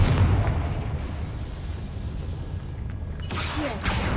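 A Confringo blasting spell explodes in the Hogwarts Legacy video game with a deep, rumbling boom that slowly fades. A second sharp burst and crackle follow near the end, with no talking.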